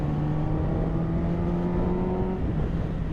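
A 2010 Honda CBR1000RR motorcycle engine pulls hard in a steady, loud drone with rising tonal whine, heard close and continuous without talk.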